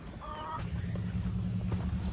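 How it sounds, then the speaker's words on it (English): Backyard chickens give a short burst of honking clucks near the start, then softer rustling and scattered calls over steady low background noise as the birds move about. "My chickens just saw me because they took off running."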